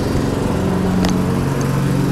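A lawn mower drones steadily in the background on a summer day outdoors, a continuous engine hum with a brief higher-pitched sound partway through, and no one talking.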